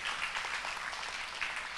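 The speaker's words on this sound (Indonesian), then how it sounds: "Tepuk tangan bagi Allah kita." Applause from a church congregation at a Sunday service, a steady dense patter of clapping hands heard close and continuous.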